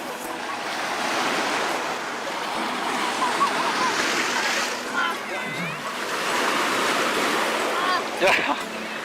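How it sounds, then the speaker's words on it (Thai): Strong sea waves roll onto Cha-am beach on the western Gulf of Thailand, a steady broad wash of surf with wind buffeting the microphone throughout. "ขึ้นทะเลแรงมากครับตอนนี้"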